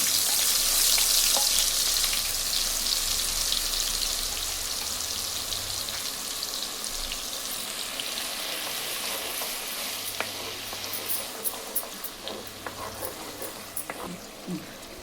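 Spice paste dropped into hot oil for anchovy and tamarind-leaf curry, bursting into a loud bright sizzle that gradually settles into steadier crackling with scattered pops and light stirring, close by, no talking.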